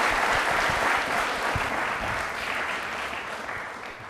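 Enthusiastic applause from a studio audience at a Doordarshan Rajasthan general knowledge quiz programme, a loud, steady clapping that slowly tapers off.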